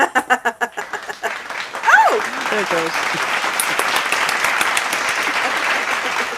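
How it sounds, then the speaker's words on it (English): A few slow, evenly spaced claps lead into a brief spoken remark, then a recorded applause sound effect on a livestream swells into a steady, broad wash of clapping that continues to the end. "Oh, it's supposed to be clapping."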